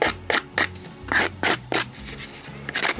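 Pieces are scraped and rasped off a pumpkin for fall decor: a run of about ten short, sharp scraping strokes at a fairly regular rhythm, close up, with no one talking.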